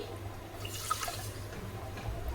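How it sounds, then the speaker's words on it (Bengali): A bowlful of water is poured over sugar in a cooking pot to start a syrup, giving a steady close splashing, trickling rush with no talking. "এই বাটি মেপেই কিন্তু আমি জল দিয়ে দেব"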